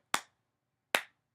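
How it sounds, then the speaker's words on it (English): Two lone, crisp hand claps spaced nearly a second apart, a slow, deliberate golf clap with silence between them. "Golf clap."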